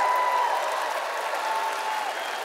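An audience at a product presentation applauding the launch of a new mobile app, a brief, even patter of clapping with a faint steady tone running underneath.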